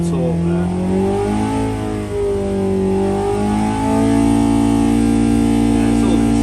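Hillman rally engine under repair for a misfire, revving steadily at high rpm with rising and falling harmonic tones, loud and close throughout, with talk over it.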